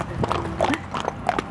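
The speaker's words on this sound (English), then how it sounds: "This is a pretty classic horse walking sound effect." A horse walks at close range, its hooves clip-clopping in a short, irregular series of knocks over faint background noise.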